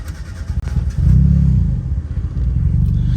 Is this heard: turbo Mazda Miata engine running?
yes